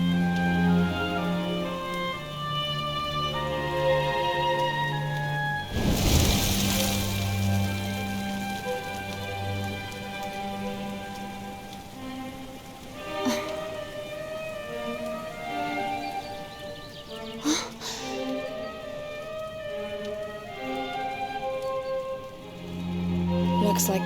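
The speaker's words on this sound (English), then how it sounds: "Looks like the rain's dying down." Rain falling in the video game Dragon Quest XI S, a soft continuous patter under game music, with a brief louder burst partway through.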